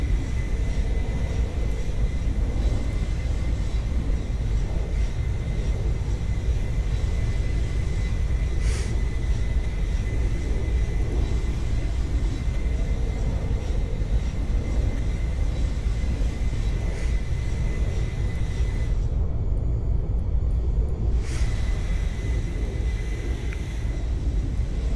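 Concorde jet engines drone steadily on approach in the flight game Aeronautica, a loud continuous rumble with a faint high whine and a brief dip in the upper hiss near the end.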